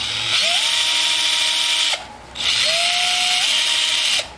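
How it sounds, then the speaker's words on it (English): A power drill bores holes through material down to an ebony layer, whining in two sustained bursts that rise in pitch as the bit spins up, with a brief quiet gap between them and no voices. "Just drilling them down to where I can see the ebony"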